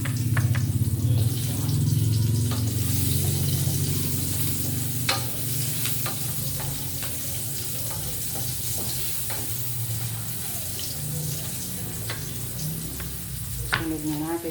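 Onion frying in a pan for a home-cooked ulam: a steady, close sizzle with scattered stirring clicks and scrapes, and a low hum in the background.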